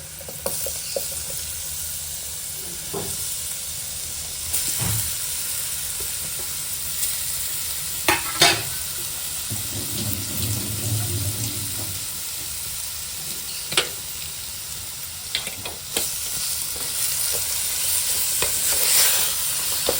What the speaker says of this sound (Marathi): त्याला परतवून घ्यायची फक्त